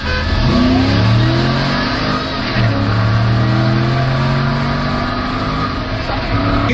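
An 03 Lightning pickup's engine revs loud and close while racing, its pitch climbing through sustained acceleration with a brief dip as it shifts, steady and dominant throughout.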